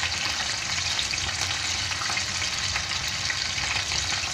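Dinaing na tilapia frying in a pan, a steady, loud, continuous sizzle and crackle of hot oil with no pauses.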